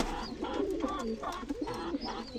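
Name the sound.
birds cooing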